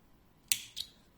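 Scissors snip a small yarn end while crocheting in a quiet room, giving two quick, crisp close snips in rapid succession.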